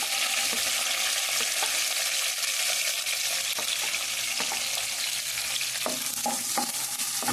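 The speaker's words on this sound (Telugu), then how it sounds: "పచ్చిమిరపకాయలు కూడా చూసారా, గింజలు అలా చిట్టపట్లాడిపోయి మొగం మీదకి వచ్చేస్తున్నాయి" Green chillies fried in hot oil alongside chicken sizzle loudly and continuously up close, with sharp crackling pops scattered throughout, strongest toward the end.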